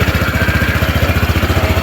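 QJ Motor ATR 160 motorcycle idling after a cold start, a loud, close, steady engine chug with a fast, even pulsing beat and no talk over it.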